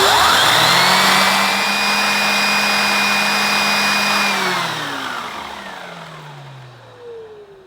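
A Henry Pet XL vacuum cleaner runs with a steady whining motor drone close by, then powers down with a falling pitch as it winds off.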